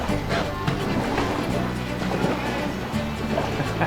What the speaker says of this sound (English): We're paddling pretty hard here because if a swell comes through,